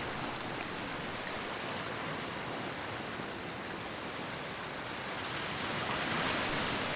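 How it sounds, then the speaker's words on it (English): Floodwater from the hills rushes past and under a new footbridge in Kalinga Park during heavy rain, a dense, steady roar of turbulent water that continues unbroken throughout. "Water down from the hills coming walloping into our newest footbridge in Kalinga Park, going over and under"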